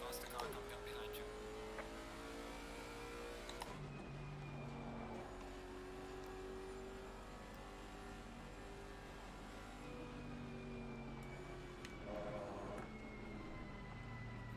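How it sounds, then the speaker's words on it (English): A faster race car closes in and roars past in Assetto Corsa Competizione at Bathurst, a loud engine whine rising and sliding in pitch over the steady drone of the player's own car, with someone talking throughout. "Faster car coming up behind you."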